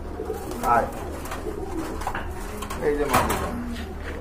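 A female pigeon coos twice in brief soft bursts during a pigeon sale, with someone talking over it.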